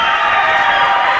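A dense wrestling arena crowd cheers and roars in a steady, loud wash of noise.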